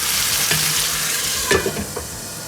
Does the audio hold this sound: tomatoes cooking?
yes